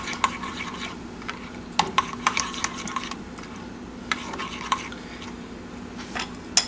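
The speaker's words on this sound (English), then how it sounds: "Just keep stirring." Potatoes being stirred with seasoned salted butter and kosher salt: scattered clinks and scrapes of a utensil against a pan or bowl, with soft squishy stirring underneath, close and moderately loud.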